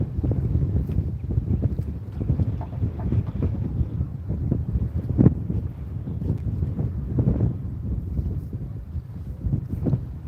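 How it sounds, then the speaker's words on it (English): Strong wind on a saltwater fishing pier in Florida roars and buffets the microphone steadily for the whole stretch, a dense low rumble with gusty swells and no voices. "Yeah, it's pretty windy out here."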